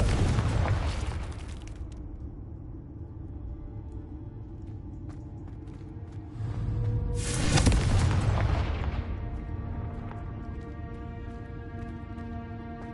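Confringo blasting spell explosions in a Hogwarts wizarding game: a booming burst opens, fades to a low hum, then a second louder blast erupts midway and rolls off in a long rumbling decay, with no talk.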